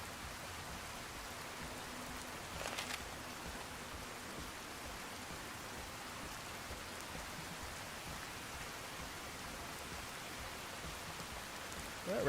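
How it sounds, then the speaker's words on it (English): Steady rainfall in the Fallout: New Vegas wasteland, a soft continuous hiss of drops with no clear rhythm, faint and even throughout. "That rain sounds nice."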